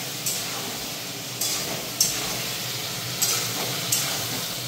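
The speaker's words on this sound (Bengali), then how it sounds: "কলাটাকে একটু ভেজে দিই।" Banana slices frying in a pan in a home kitchen, giving a steady soft sizzle with a few sharp spatters and stirring scrapes breaking through at intervals.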